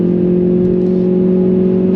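A Hyundai i30 N engine pulls hard up a hill on the Nürburgring, a loud, steady droning hum that holds throughout.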